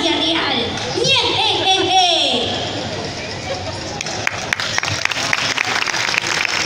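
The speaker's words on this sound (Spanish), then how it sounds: "Un aplauso para ella." At an anime expo stage show, excited voices and children's chatter give way to a crowd's scattered clapping and cheering for a performer, with sharp individual claps standing out near the end.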